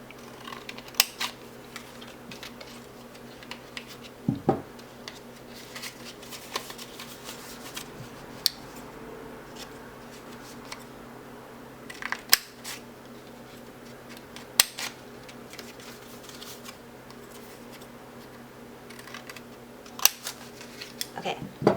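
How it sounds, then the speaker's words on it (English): Scissors snipping paper flower petals, with sparse, soft, close clicks and cuts scattered over a quiet background and no talking. "the second size, I'm just going to cut a little less than that."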